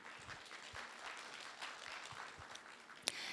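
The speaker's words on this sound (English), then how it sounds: "Applause again." An audience applauds at a closing plenary session, steady, fairly soft clapping that continues throughout, with one sharp clap standing out near the end.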